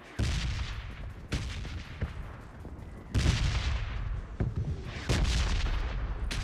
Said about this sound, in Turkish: Red zone kötü patlıyor.